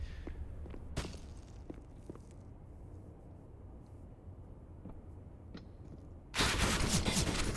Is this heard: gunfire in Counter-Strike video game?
yes